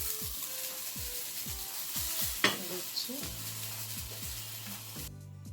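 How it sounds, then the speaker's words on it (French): Rice fries in a wok with a steady sizzle under repeated scraping and stirring strokes of a utensil against the pan, including a sharper clack midway, all heard close up. "frire le riz pendant à peu près 5 minutes également"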